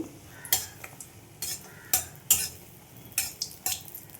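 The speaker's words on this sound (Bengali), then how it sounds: "কিছু বড়ি ভেজে নেব" Bori lentil dumplings fry in oil in a wok, heard as a soft sizzle under sharp, irregular scrapes and clinks of a spatula against the metal, about eight distinct strokes.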